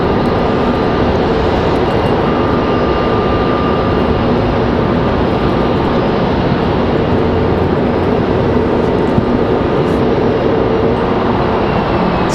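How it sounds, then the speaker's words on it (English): An American Airlines jet arriving from Miami roars in at Raleigh-Durham International Airport, a loud, continuous, broad engine rumble and whoosh holding steady throughout with no voices. "Our next arrival looks like it's going to be American Airlines 2340 coming in from Miami."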